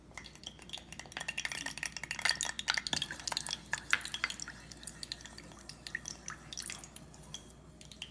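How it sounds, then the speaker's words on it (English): Olive oil and beeswax being stirred in a pan over very low heat, with a steady run of close, light clinks, scrapes and drippy liquid sounds that carry on continuously. "I'm going to stir it really nicely."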